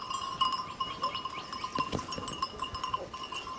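A flock of sheep with an Akbaş guard dog, bleating in several overlapping calls near and far, with a bell clinking faintly in the background.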